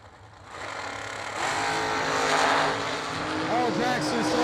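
Drag racing cars, including a dragster, roaring down the lanes at a Christmas event as a loud, rising engine drone builds and holds, with the announcer talking over it.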